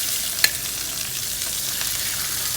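A thin chicken breast goes into a hot pan, giving a steady broad sizzle with one sharp crackle near the start; no voices.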